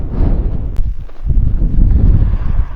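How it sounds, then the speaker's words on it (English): Strong coastal wind buffets the microphone during sea fishing at Cemlyn Bay in Wales, a loud, continuous low rumble with gusty swells and no voices. "we're having problems with the wind"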